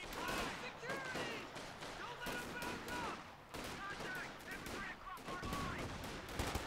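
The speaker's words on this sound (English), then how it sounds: "Panzer Fusiliers laying down fire with the G43s" Panzer Fusiliers fire G43 semi-automatic rifles in a Company of Heroes 2 battle, sharp cracks coming in quick, irregular bursts over a busy backdrop of combat noise, with talk running underneath.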